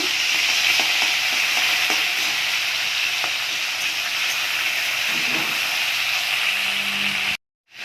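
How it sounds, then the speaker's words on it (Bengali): Prawns frying in hot oil for a kachu shak dish produce a loud, continuous sizzle and hiss with occasional faint clicks, which cuts off abruptly near the end. "তেল গরম হয়ে গেছে, আমি চিংড়ি মাছটা ভেজে নেব।"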